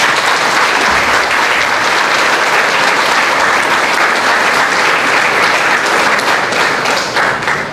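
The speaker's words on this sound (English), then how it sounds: "Let's give them a round of applause." A large audience applauds for alumni standing during a morning school gathering, a dense, steady wash of clapping that stays loud and even throughout before easing slightly at the very end.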